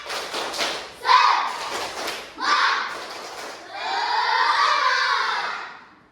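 Schoolchildren in a classroom do a rhythmic spirit clap, a group of thudding claps in a patterned sequence mixed with children's voices and cheering, ending in a sustained shout that fades out.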